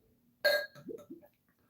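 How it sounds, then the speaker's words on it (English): A single loud burp from a person, followed by a couple of short throaty trailing sounds, alone with no talking. "Ooh, I burped."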